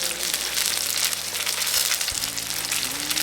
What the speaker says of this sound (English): we're going to fry each piece until it's golden brown